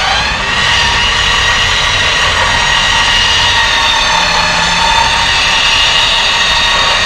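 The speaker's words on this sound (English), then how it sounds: "This is the winch speed on the Smittybuilt X20." A Smittybuilt X20 winch runs continuously, a loud close whine with a dense mechanical hum that stays even throughout, with no voices.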